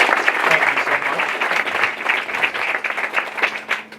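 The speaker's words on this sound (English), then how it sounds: "So let's give them a round of applause." A crowd claps at an airport terminal ribbon-cutting ceremony, a dense, continuous patter of many hands at a moderate, even level for four seconds.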